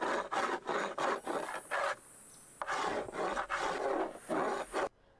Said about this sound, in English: We're fucking sanding this thing.